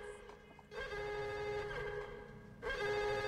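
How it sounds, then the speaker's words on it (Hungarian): An electronic telephone ring sounds twice inside the Max Payne video game, each ring a steady, buzzy tone over faint background ambience. "Csörög a telefon, gyere."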